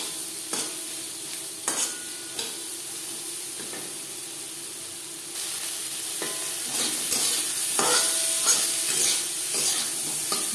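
Potatoes and vegetable stalks fry in a pan, a steady sizzle broken by repeated scraping stirs and clinks of the spatula, close and loud, growing more intense partway through.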